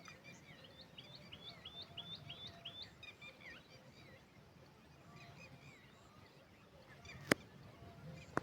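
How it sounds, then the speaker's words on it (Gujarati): Small birds chirp in quick repeated phrases on a quiet village farm morning, faint and somewhat distant over a soft background hum, with a sharp click near the end. "સવારમાં પક્ષીઓનો અવાજ આવે"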